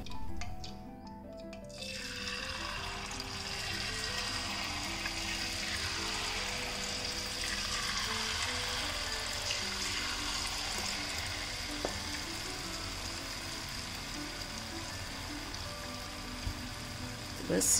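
Jaggery and wheat-flour jalebi frying in hot oil, giving a steady hiss and fine crackling sizzle that carries on for many seconds. A voice talks quietly over it.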